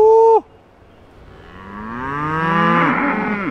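Cattle on a Southwest Virginia pasture mooing: a short loud call cut off, then a long, rising, drawn-out moo building over about three seconds, close and clear with no talk.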